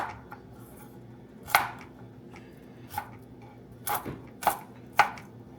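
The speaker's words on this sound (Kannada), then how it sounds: "ಇದನ್ನು ಗಾರ್ಲಿಕ್ನ ಚಿಕ್ಕದಾಗಿ ಕಟ್ ಮಾಡ್ಕೋಬೇಕು" Garlic is chopped finely on a board, a handful of crisp knife strikes falling at irregular intervals, close and fairly loud, with quiet pauses between; no talking.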